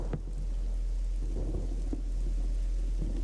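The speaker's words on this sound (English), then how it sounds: "now the rain is coming down harder" Heavy rain pouring steadily in a sim racing game, with low thunder rumbles and a few sharper cracks rising through the constant hiss; no voices.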